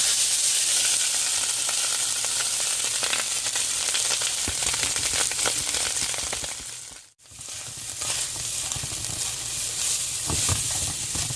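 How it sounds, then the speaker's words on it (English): Rice fries in sesame oil in a hot pan, a loud, continuous sizzling hiss that drops out for a split second as the pan is tossed, then surges back with scraping stir noises. "Let's fry some rice."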